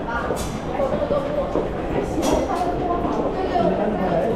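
A train pulls into a station in South Korea, its steady rumble and rattle of wheels on the rails filling the scene while people talk nearby.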